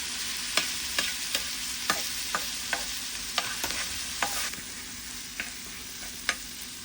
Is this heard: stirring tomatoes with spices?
yes